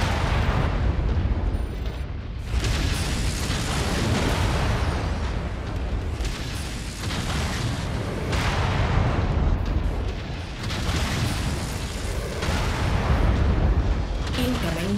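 Missiles explode in the MechWarrior 5 mech combat game, a series of loud, heavy booms and rumbling blasts following one another in bursts, with a low roar continuing between impacts.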